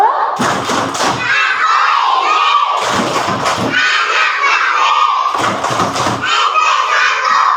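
Schoolchildren in a grade 1 classroom perform a rhythmic clap chant, three loud bursts of unison clapping and shouted chanting at regular intervals, close and energetic.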